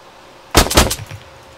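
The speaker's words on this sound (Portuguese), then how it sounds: "ele efetua o disparo" A single gunshot in the Arma 3 video game, fired on an instructor's command during a close-quarters infantry training course, bursts out loud and sharp, followed by a short rattling echo that fades quickly.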